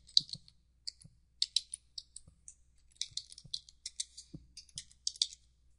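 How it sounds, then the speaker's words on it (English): Computer keyboard typing for a title in Pinnacle Studio 15 video-editing software: brisk bursts of light, close key clicks in uneven clusters with short pauses, alone with no talk. "then we can type our title"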